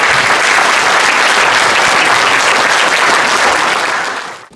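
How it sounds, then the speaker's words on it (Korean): A ceremony audience bursts into sustained, dense applause for a 1st anniversary celebration of a small-business owners' rights rally, held at the Ahn Jung-geun memorial hall. It stays loud and steady throughout, then tapers off at the very end. "단상에 오르실 때 큰 박수 부탁드리도록 하겠습니다."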